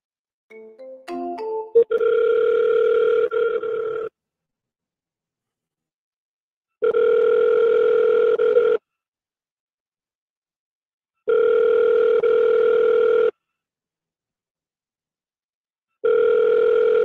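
A phone call rings out through the earpiece after a short burst of dialing tones. Four long, even ringback tones are separated by silent gaps, with no voices.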